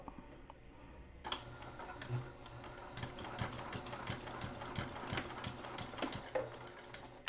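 A home sewing machine stitches a fabric bookmark, a quiet steady run of rapid ticking needle strokes that keeps going for several seconds.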